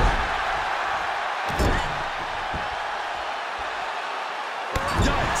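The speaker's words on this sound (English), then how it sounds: "Oh, and a forearm smash" A forearm smash lands in a no-holds-barred women's wrestling match between Dana Brooke and Becky Lynch, giving two sharp slapping thuds over steady arena crowd noise and commentary.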